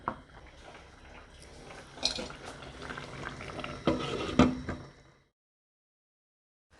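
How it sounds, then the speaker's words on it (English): Sauce for sheep tongue souse bubbling and simmering in a pot, a steady close burble with a few louder pops before it cuts to silence. "While our sauce is boiling"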